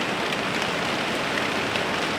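Rain patters on a hot tent canvas in a cold forest, building again into a dense, steady hiss of drops striking close by, unbroken and without talk.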